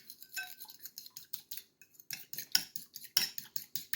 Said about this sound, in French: Je prends l'huile d'olive, l'huile de tournesol et je mélange bien.